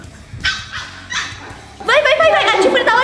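Several house dogs bark loudly and close by. A few separate yaps come first, then a burst of rapid, overlapping barking, with people talking nearby.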